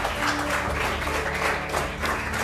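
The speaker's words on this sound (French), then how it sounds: "Vous pouvez les applaudir." A restaurant crowd applauds in a kitchen-makeover show setting, brisk, continuous clapping from many hands at moderate loudness, a short burst with no speech.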